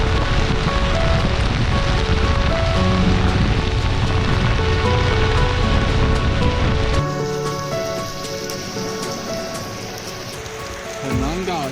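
Rain pours steadily while riding along a highway in China, a dense, loud hissing patter that softens partway through into a thinner wash of drops and wind.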